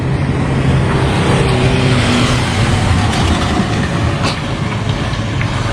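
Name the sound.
car driving uphill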